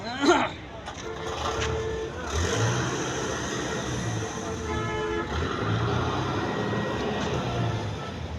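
A ten-foot truck fitted with an Isuzu 4JB1 engine, heard as a low diesel rumble with a short horn toot at the start, under someone talking throughout.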